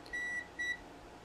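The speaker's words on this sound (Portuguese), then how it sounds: "Ele toca um alarme," An Aneng SZ18 multimeter's non-contact voltage sensor sounds its alarm: two short, clear electronic beeps about half a second apart over a faint background hum.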